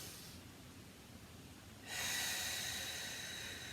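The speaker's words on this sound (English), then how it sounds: "We're doing deep breathing as opposed to the shallow breathing we do in our" Deep inhalation during a Pilates exercise: a single long breath drawn in, rising suddenly to a loud, airy rush up close after a quiet start, with no talking.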